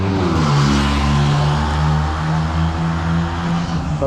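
Cars race and rev on a road at night near Patuli, a loud, sustained engine roar with layered droning tones that hold and waver throughout, no voices.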